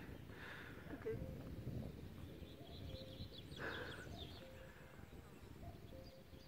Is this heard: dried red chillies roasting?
no